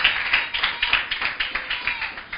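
Church congregation clapping in a quick, irregular rhythm, a dense run of sharp claps, moderately loud and close, no voices over it.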